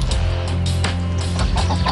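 A chicken clucks repeatedly and loudly close by outdoors, with short, choppy calls in an irregular rhythm over a steady background hum.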